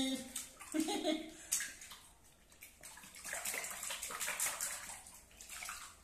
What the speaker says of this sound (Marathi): याच पाण्याने आंघोळ करायची डोक्यावर